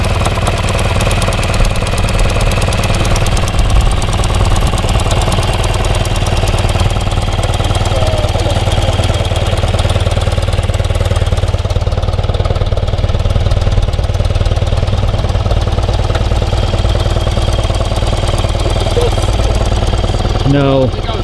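1982 BMW R65LS motorcycle engine running after a cold start, a close, steady idle with a lumpy low thrum and mechanical ticking that holds evenly throughout, with faint voices underneath.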